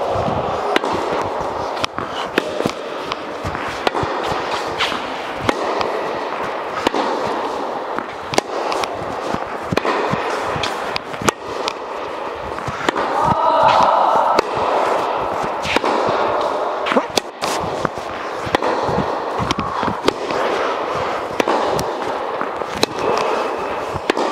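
Repeated sharp impacts of tennis balls struck with a Babolat Pure Drive 2021 racquet strung at 54, sounding as steady irregular pops over constant court ambience, with no talk.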